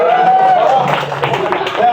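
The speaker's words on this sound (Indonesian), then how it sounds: "tepuk tangan buat Gina" An audience in a public speaking class claps and cheers for a participant, a dense burst of hand claps under a voice, fairly close and moderately loud.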